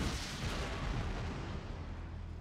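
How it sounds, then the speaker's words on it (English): Armstrong guns fire on Daikyu Samurai during a Total War siege battle: a dense, unbroken barrage of loud booms and rumbling blasts that overlap into a constant roar for the whole stretch. "Daikyu Samurai being obliterated by Armstrong guns."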